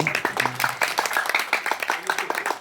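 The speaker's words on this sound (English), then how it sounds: "when somebody says clap was very dull from this side, you're supposed to clap" A small audience claps in a steady, quick rhythm of sharp, fairly close hand claps, with a faint murmur of voices underneath.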